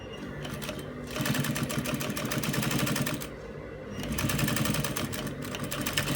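A sewing machine runs steadily up close, stitching piping onto a kaftan neckline, its rapid needle chatter continuous with a brief slowdown midway.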